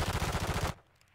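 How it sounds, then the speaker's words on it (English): Rapid automatic gunfire from close hip-fire in Call of Duty Modern Warfare 3, a loud, dense burst of shots lasting under a second before cutting off to near silence. "That close hip fire, and I should have hit him."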